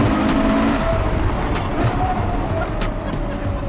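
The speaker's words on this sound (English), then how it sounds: "I can never get tired of that V12 engine sound" Modified Ferrari F12 V12 engine pulling hard in first gear on a long acceleration run, a loud continuous roar heard from inside the car with a rising engine note.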